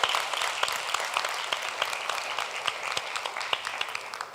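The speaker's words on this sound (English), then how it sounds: "I think they deserve another round of applause" An audience at the 2025 Bank of Nevis Tourism Youth Congress claps for the youth presenters in a dense, steady round of applause that fills the room and tapers slightly at the end.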